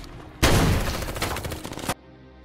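Gunfire from a shootout between special forces troops and resisting fighters in an action film, a sudden dense burst of rapid overlapping shots lasting about a second and a half, then cut off abruptly.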